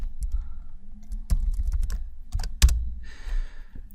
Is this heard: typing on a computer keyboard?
yes